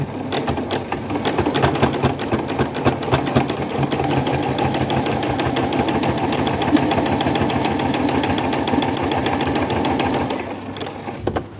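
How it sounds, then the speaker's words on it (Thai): A sewing machine stitches along the edge of a skirt hem in one long, loud, fast mechanical chatter that runs steadily for about ten seconds before stopping. "แล้วทีนี้เราก็เย็บคิ้วตรงขอบริมตรงนี้นะคะ"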